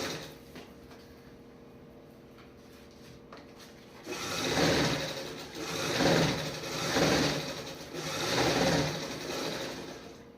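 Sewing machine stitching a nine-yard zigzag sari garment: quiet clicking at first, then three loud bursts of rapid stitching rising and falling in rhythm, close and alone.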